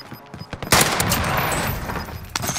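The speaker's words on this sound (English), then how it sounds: "Is there gunfire?" Video game gunfire bursts out suddenly as rapid, loud shots that blur into a dense volley lasting about two seconds, with a final crack near the end.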